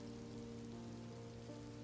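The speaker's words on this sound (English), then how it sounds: "And it's raining outside." Steady rain falls outside as an ambient effect behind a horror story reading, a soft continuous hiss with a low steady hum underneath and no voices.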